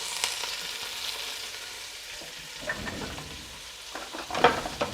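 Chopped onion and diced carrots sizzle in a pan with a little oil, a steady frying hiss broken by a few clinks and scrapes of stirring.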